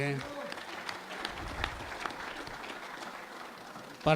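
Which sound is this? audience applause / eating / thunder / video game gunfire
audience applause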